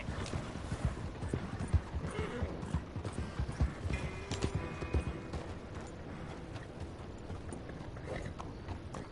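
Horse hooves pound in a fast, rhythmic galloping clip-clop in the video game Red Dead Redemption 2, loud and close at first, then easing into a softer, steadier trot.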